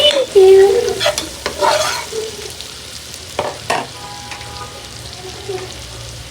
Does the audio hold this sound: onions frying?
yes